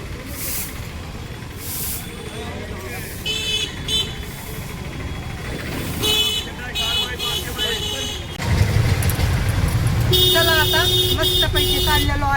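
Ride in an auto rickshaw leaving Rohtak station for the market, with steady engine and traffic noise, passing vehicles and hissing brakes. Voices are heard under the noise, which grows louder in the last few seconds.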